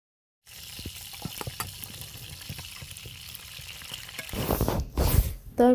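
Fried chicken pieces crackle and sizzle in a kadai with scattered pops and light stirring clinks, then a louder splash of liquid and a clatter near the end.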